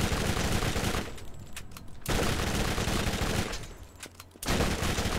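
Bursts of rapid gunfire from a gun in the video game Borderlands, loud sustained volleys broken by two brief pauses, with no talk.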